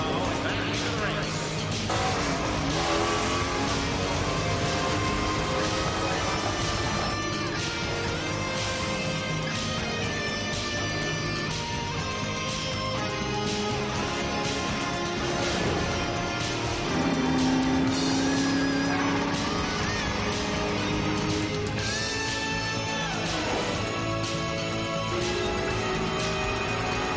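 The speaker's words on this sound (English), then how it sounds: "Car 51, Thomas coming out of the pit row and back into the race." Race cars scream past as one leaves pit row and rejoins the race, with engines revving and roaring continuously and loud throughout, layered passes and tire noise blending with music and a voice talking over it.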